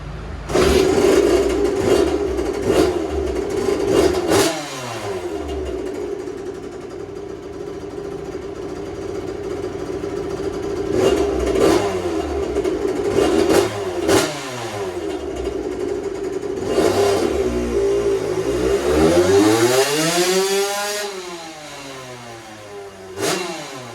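A 2001 Suzuki RM85 two-stroke dirt bike engine with richer jetting revs hard in repeated pulls, climbing and dropping in pitch between steadier stretches, loud and close with no talking.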